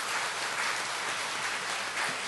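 A church congregation claps together after praise singing at a Korean worship service, a dense, steady wash of many hands applauding at close range for a couple of seconds with no voices over it.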